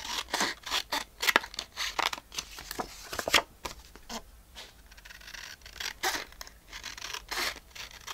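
Scissors snip through paper, cutting a strip off the bottom in a series of close, crisp cuts and rustles spread irregularly throughout.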